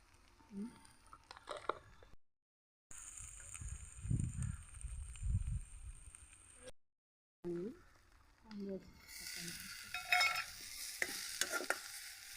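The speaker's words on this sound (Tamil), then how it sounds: "வெங்காயம் வெங்காயம் மிளகாய் எண்ணெயில் நல்லா வதங்கிடணும் வெந்துடணும்" Onions and chillies sizzle and crackle steadily in oil in a pan with occasional stirring scrapes, broken by two brief silent gaps, and a faint voice is heard near the end.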